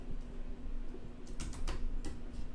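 Fingers tap on a computer keyboard in quick, uneven bursts of key clicks, faint and close, set against a steady hum of room noise with no talk.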